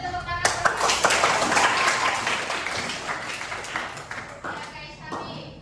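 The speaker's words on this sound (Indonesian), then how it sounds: "Kasih tepuk tangan." Classmates in a classroom peer-teaching session clap for a student, a burst of close, lively hand claps that swells and then gradually tapers, with children's voices mixed in.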